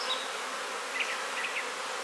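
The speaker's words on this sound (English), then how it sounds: "all these bees you see flying will return back to this mother colony here" Honeybees buzz steadily in the air around a hive colony, a continuous close hum with a few individual bees whining past nearby.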